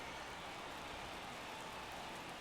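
Rain during a baseball game in MLB The Show 21 comes through as a faint, even, continuous hiss of falling rain with no other sounds over it.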